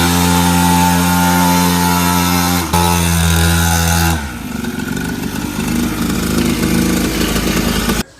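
A dirt bike engine roars loud and close, a harsh buzzing drone that stutters briefly, then drops to a rougher, lower idle-like rumble before cutting off abruptly at the end.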